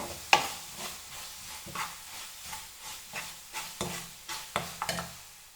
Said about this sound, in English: fry this very nicely till all the masalas are fried nicely together